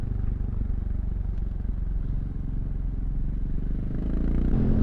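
Motorcycle riding on a road, a continuous low engine rumble mixed with wind buffeting, close and steady, building slightly louder toward the end.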